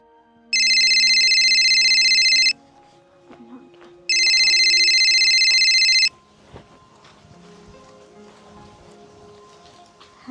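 Two long bursts of an electronic telephone ringtone, each about two seconds with a gap between, loud and clear over a quiet rural room, followed by faint background movement.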